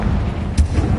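A Confringo fire spell in the Hogwarts Legacy video game goes off as a single short, punchy blast, loud and close, with a brief rumbling tail.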